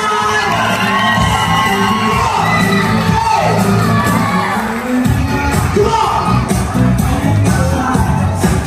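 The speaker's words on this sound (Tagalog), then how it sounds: "isang malakas na palakpakan at sigawan for Papa Bossing Emil and Mama Nels Gloria" A loud crowd at an 18th birthday debut party cheers, whoops and shouts continuously, with voices yelling over the dense roar of the gathering.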